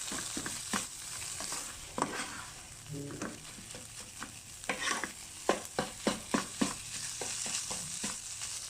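Shrimp paste stir-fries with pounded chili paste ingredients, making a soft, continuous sizzle over medium heat. Repeated scraping strokes of a spatula become more frequent and rhythmic toward the end.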